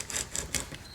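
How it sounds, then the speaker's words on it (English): A utility knife slices out the corners of a taped plywood box, giving a few quick, close rasping strokes in under a second, with no talking. "take a utility knife and cut out"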